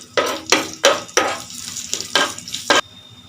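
Garlic and black gram frying in hot oil with ajwain, a spatula stirring in repeated bursts of sizzle and scraping, about seven close strokes in a steady rhythm.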